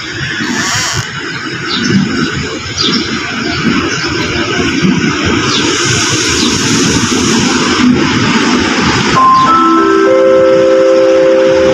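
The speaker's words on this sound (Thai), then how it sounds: "เข้าจอดสถานีรถไฟลำปลายมาสนะครับ" Air-conditioned diesel railcar express train, number 22 from Ubon Ratchathani to Bangkok Apiwat, pulling into a Thai station with a rumbling, rattling approach, then steady high squealing brake tones in the final seconds.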